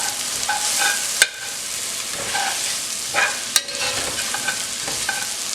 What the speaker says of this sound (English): really this is just stir it around a bit just to take the roughness, the rough sharp taste from the garlic and ginger